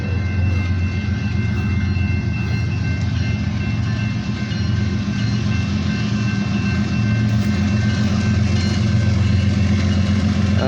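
A Kansas City Southern freight train rolls past on the rails at night, a loud, continuous low rumble and wheel drone close by with faint tonal hums above, steady throughout.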